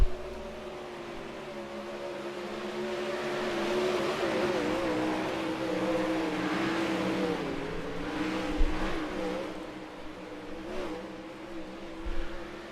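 Race cars circle a track mid-race, their engines droning in a sustained, swelling roar from the distance with pitch shifts as they pass.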